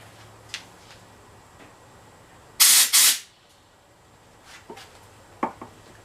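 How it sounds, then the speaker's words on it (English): Compressed air blows dust out of a Tecumseh carburetor in two loud, close hissing blasts about a second long, with faint clicks and taps of handling before and after. "Just gonna blow out the inside here again just to make sure there's no dust."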